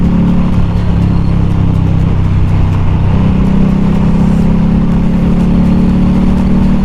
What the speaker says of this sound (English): coming out of the blind curve, we can accelerate, and then stand the motorcycle up